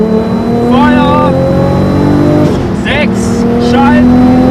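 A Nissan Skyline R33 GTST with a GTX3076 turbo accelerates hard, its loud engine note climbing steadily through the revs, dipping briefly at a shift and then pulling upward again while someone talks over it.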